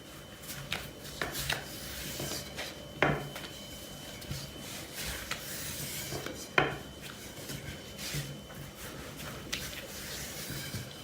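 Thin börek dough is rolled out on a floured mat with a wooden rolling pin, giving soft repeated rubbing and rolling strokes with occasional light knocks, close and quiet, with no talk.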